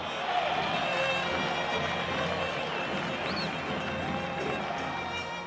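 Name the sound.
football fans celebrating a goal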